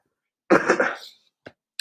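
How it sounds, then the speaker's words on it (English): One harsh, close cough, followed by a couple of short throaty sounds. "I was coughing"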